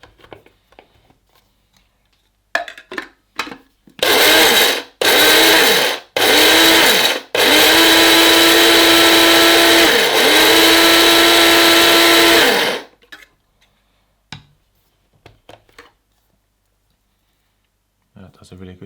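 Shardor electric coffee and spice grinder running in several loud bursts, a whirring motor roar pulsed on and off then held for a longer grind, with clicks and handling noises before and after, a voice speaking between bursts.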